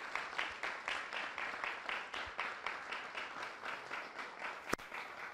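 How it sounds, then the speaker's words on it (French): An event audience applauds a judge with rhythmic, pulsing clapping at a steady beat, moderately distant and fairly soft, with one sharp knock near the end. "On l'applaudit, s'il vous plaît."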